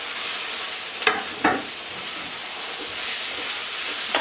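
Onion frying in hot oil in a pan, a loud, steady hiss of sizzling that runs through the whole stretch, with a couple of brief scraping stirs near the start.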